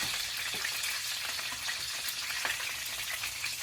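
Steak pan-searing in oil, a dense, steady sizzle and crackle that carries close and continuous throughout, with no one speaking.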